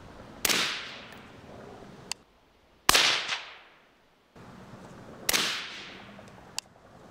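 Three sharp cracks from a .30-caliber rifle fitted with a Daniel Defense flow-through suppressor, each a loud snap followed by a short hissing decay. The shots come at intervals of about two and a half seconds, with small clicks in between.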